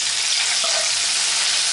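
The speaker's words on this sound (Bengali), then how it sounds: "এবার এই তেলেই আমি দিয়ে দিচ্ছি পেঁয়াজ কুচি।" Finely chopped onion dropped into hot oil for a potato and broccoli curry, giving a loud, continuous close-up sizzle with a faint stir partway through.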